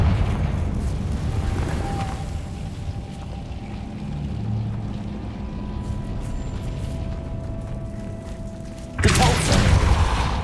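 A Confringo fire spell detonates in Hogwarts Legacy, a sustained loud rumbling blast that rolls on for several seconds before a second sharp, heavy burst near the end.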